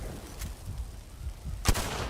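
Pistols fire in the video game Hunt: Showdown, with two sharp reports, one faint early and one louder near the end, set against a low background rumble.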